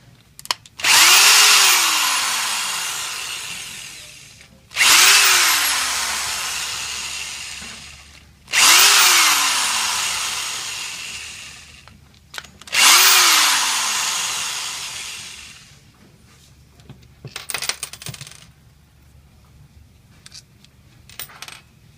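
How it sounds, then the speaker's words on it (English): A power driver spins out screws from the pump head of a 5800 pump during disassembly, four loud whirring bursts of about three seconds each, then a few faint clicks and rattles of parts. "Now we're going to remove the remaining four screws that hold these parts together."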